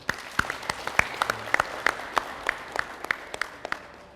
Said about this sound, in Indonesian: Mari kita beri tepuk tangan dulu.